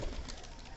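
Pigeons coo on a rooftop on a cold winter morning, a short burst of soft, low, throaty cooing from close by over steady background noise.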